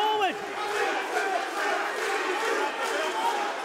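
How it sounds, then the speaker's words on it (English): An arena crowd at an Enfusion kickboxing fight chants and shouts a fighter's name, Izzy, in a loud, sustained mass of voices with rhythmic swells, filling the hall steadily. "The crowd getting behind Izzy, shouting his name."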